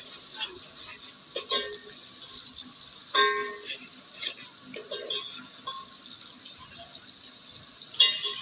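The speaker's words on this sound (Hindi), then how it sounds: "अम्मी अब्बू के लिए चिकन बना रही हैं" Chicken cooking in a pan, a soft continuous sizzle with repeated scraping stirs and clinks of a utensil against the pan, close by and moderately loud, without talk.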